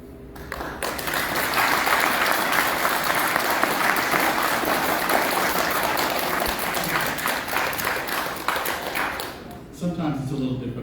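An audience claps steadily at a county candidate forum, sustained dense applause lasting about nine seconds before tapering off, with a voice coming in briefly at the end.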